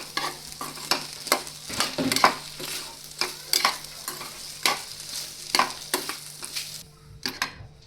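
Potatoes and chillies for sambharo cook in a pan with a soft, constant sizzle. A spatula scrapes and taps against the metal in an uneven rhythm, close by.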